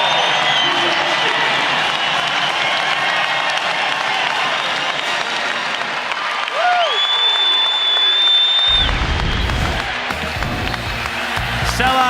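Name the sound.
sellout basketball crowd applauding in Reno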